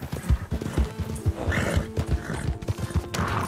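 A horse neighs and snorts over steady rhythmic hoofbeats in Red Dead Redemption 2, close and clear, with a low background rumble.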